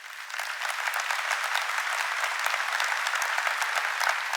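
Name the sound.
applause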